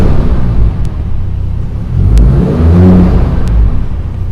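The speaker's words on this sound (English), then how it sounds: "German straight six, one of the best sounding engines ever" Mercedes-Benz 280 SL with its warmed-up 2.8-litre German straight-six engine, revved gently in a loud, steady low rumble that swells midway, heard up close with no talk over it.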